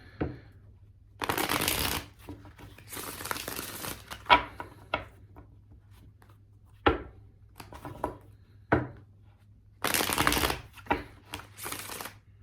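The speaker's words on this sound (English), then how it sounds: "Let's get two more shuffles for Sagittarius." Tarot cards are shuffled close by in several separate bursts of riffling, interspersed with sharp taps and soft slaps of the deck against a surface in a quiet room.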